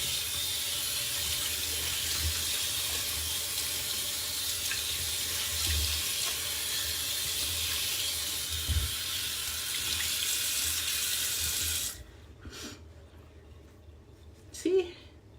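A tap runs steadily at a sink while a face is rinsed during an at-home facial, then shuts off, leaving a few faint splashes and drips.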